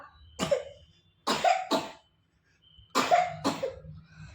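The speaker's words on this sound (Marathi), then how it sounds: "खोकला जातच नाही तुझा" Five sharp coughs come close up in two bunches, a single then a pair, a pause, then another pair, with brief silences between.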